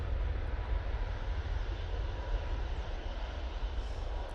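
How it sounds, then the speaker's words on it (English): Boeing 737 MAX 8 airliner at Manchester Airport, its engines a steady, fairly loud broadband roar with low rumble that holds evenly throughout, with no voices. "This is a 737 MAX 8."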